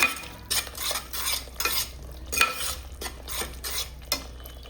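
A spoon stirs turmeric into masala roasted in oil, producing rhythmic scraping strokes against the pan roughly every half second over a faint, low sizzle.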